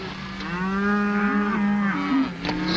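Cattle on open ranch land give a long, drawn-out moo that rises and falls, then a second lowing call, loud and close with no voices over them.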